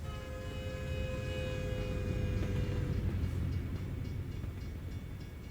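A passing train rumbles steadily in an American Truck Simulator game, with a continuous low roar and sustained tonal whine from the rail cars, fairly loud and without talk throughout.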